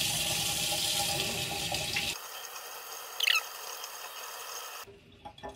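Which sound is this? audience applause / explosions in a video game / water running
water running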